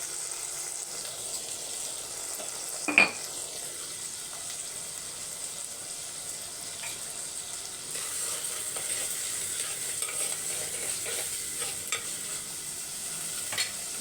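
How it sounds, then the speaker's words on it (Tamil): Three chopped tomatoes sautéing with salt in a pan, a soft steady sizzle with a sharp metallic clink early on and light stirring scrapes, fairly quiet and without speech. "மூணு தக்காளி கட் பண்ணி வச்சுருக்கேன் அதை சேர்த்துலாம் வதங்கட்டும்"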